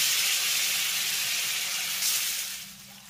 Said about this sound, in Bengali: এবার কয়েকটি পনির আমি তেলের ভিতরে দিয়ে ভেজে নেব।